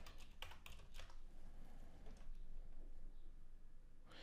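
Code is typed on a computer keyboard in quick, irregular bursts of key clicks, with loose clusters near the start and a brief flurry at the very end, fairly close and clear with no talking.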